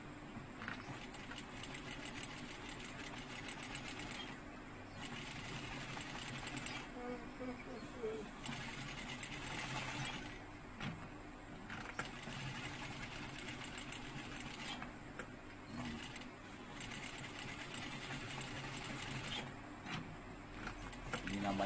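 A sewing machine stitches circles in runs of steady, fast mechanical whirring broken by short pauses, close and fairly faint, with a low hum underneath.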